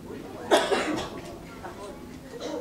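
A single short cough from a person during a church service, fairly close, followed by faint throat noises against a quiet room.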